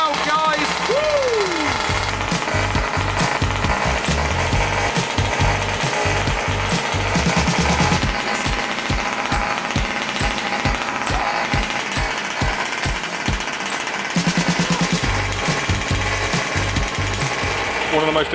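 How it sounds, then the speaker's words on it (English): A 38cc petrol engine in a 1/5 scale RC truck runs loud and close, its rapid pulsing firing rhythm steady throughout with brief revving swells, and some talk mixed in. "So this is the 38cc engine and it is installed in the truck."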